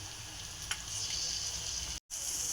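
Spiced potato filling for palak aloo paratha frying in oil in a pan, a steady close sizzle with one brief sharp tap and a short dropout near the end.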